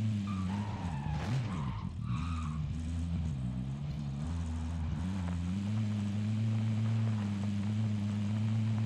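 A vehicle in the Warzone video game drives with a steady low engine drone and tire skids that squeal early on, followed by a sustained rumbling hum.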